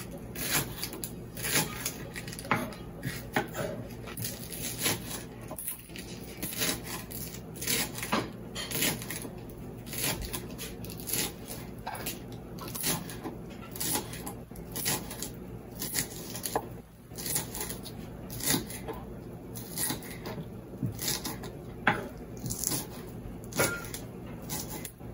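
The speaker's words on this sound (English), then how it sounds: "Trong lúc mình chờ đợi thì mình cắt hành ra ha." Scallions and onion being chopped with a knife on a cutting board while making Vietnamese pho, a steady run of quick close taps and thuds at moderate level with a constant background hum.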